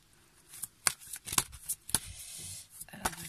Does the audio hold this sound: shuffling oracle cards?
yes